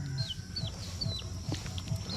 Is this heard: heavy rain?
no